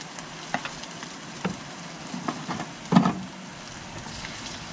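Eggs sizzle quietly in a cast iron skillet over a camp stove, a soft, steady frying hiss broken by a few scraping stirs and clinks, one louder knock near the end.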